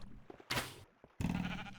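Sheep bleating in Minecraft Alpha 1.0.4, with two loud, broad-toned bleats separated by a short pause, each sounding near and clear over faint game background.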